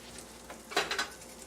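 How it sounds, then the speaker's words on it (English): A short burst of soft sizzling crackles up as butter melts in a stainless steel pan in a quiet kitchen, peaking for a moment before settling back to a faint hiss. "We're getting a nice sizzle."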